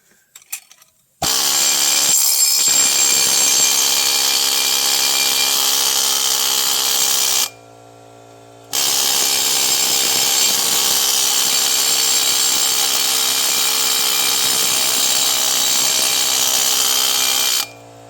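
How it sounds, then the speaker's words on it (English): A harsh, loud needle scaler rattles continuously for several seconds cleaning rusty brake parts from a Chevrolet Silverado, stops briefly, then starts up again and runs steadily to the end. "It's a rudely loud, ignorant machine, so I'm not going to do too much."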